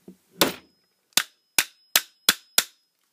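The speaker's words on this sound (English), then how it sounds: "So my apologies for the loud hammering there." Six sharp metallic hammer blows strike a welded metal case of a 230V to 120V voltage converter, loud and close, the first heavier with a ringing tail, then five evenly spaced clangs.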